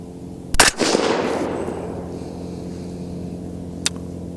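A single suppressed rifle shot in 22 ARC firing a Hornady 80-grain ELD-X bullet, a sharp close crack followed by a fading rumble outdoors, then a faint distant tick from the target a few seconds later.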